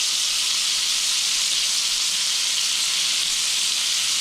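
Deer tenderloin steaks, all cut to the same thickness, fry in a pan with a steady, loud, close sizzle and hiss that holds even from start to end, with no talk.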